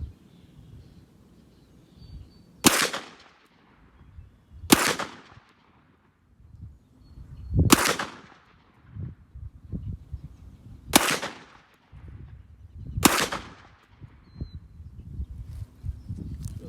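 Five loud, sharp shots from a Glock 40 MOS 10mm pistol at a shooting range, fired at uneven intervals of two to three seconds, each with a short echoing tail over a low background rumble.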